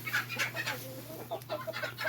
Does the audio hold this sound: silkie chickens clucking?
yes